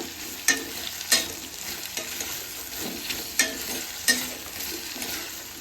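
Green chillies frying in a pan for ridge gourd chutney, a soft sizzle under a few sharp scraping stirs of a spoon, spaced a second or so apart, close but fairly quiet and without speech.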